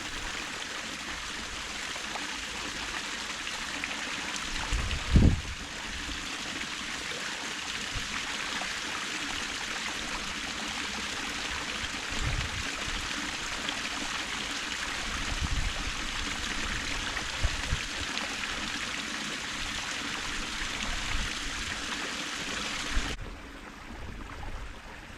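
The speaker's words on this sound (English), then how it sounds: "the waterfall coming down." Steady rushing and splashing of water falling into a pond, continuous and close, with a few faint knocks and bumps along the way.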